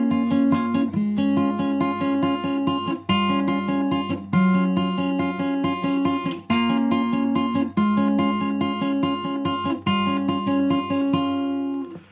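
Fingerpicked acoustic guitar plays the bridge of a song, steady arpeggiated patterns with clear plucked notes, close and alone with no talking.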